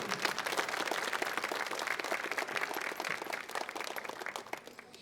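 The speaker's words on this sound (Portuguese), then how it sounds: "Vamos aplaudir a palavra do Senhor." Congregation applause in a Portuguese-language church service after a Bible reading from Exodus, a steady crowd of clapping hands, moderately loud and sustained for several seconds before tapering off, with no talking.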